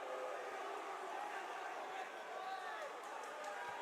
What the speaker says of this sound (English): Oh, this crowd's just getting riled.